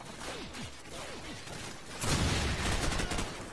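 Sniper rifle shots in Call of Duty Modern Warfare, with several sharp reports with descending whooshes early on, then a louder dense burst of gunfire and crashing that carries on to the end.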